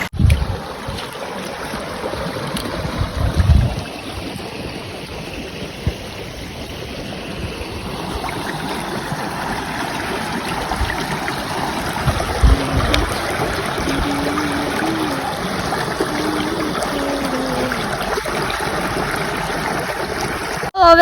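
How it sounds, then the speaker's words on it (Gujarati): Floodwater after heavy rain rushes past in a steady, loud, close stream, a continuous churning wash with occasional bumps and gusts of wind and no voices. "જો પાણી જાય છે કેટલું બધું"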